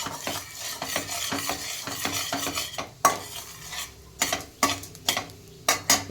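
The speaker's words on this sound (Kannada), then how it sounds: "ಸೌಟಿಂದ ಚೆನ್ನಾಗಿ ಸ್ಟೇರ್ ಮಾಡೋಣ" A ladle stirs chana dal and urad dal frying in a pan, giving a steady scraping clatter over soft sizzling, with sharper metallic knocks against the pan near the end.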